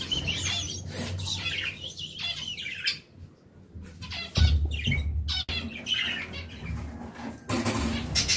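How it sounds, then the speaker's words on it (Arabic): Small birds in a coop squawk and chirp in dense, overlapping bursts, near and fairly loud, with harsh squawks and quick tweets coming in clusters and brief lulls between them. "فين نطلع عند العصافير؟"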